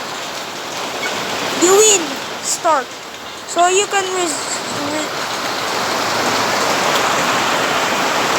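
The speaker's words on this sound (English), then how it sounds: "Don't ignore the rain in the background" Steady rain falls outside as a broad, constant hiss that swells slightly toward the end, running under a few bright electronic beeps and chirps from a glow hockey game.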